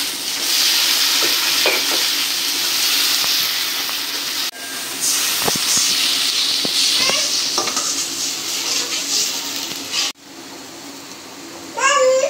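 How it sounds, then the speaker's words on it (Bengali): Shrimp and chopped green chilli with onion sizzle steadily in a pan, a loud continuous hiss broken by brief scraping stirs and a short pause near the end, with a voice faintly in the background. "মরিচ কুচি, চিংড়ি মাছ দিয়ে দিলাম ভাজির জন্য।"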